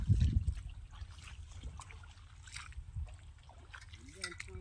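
Irrigation water trickles and flows steadily at low level through a mango orchard, with voices talking nearby over the running water.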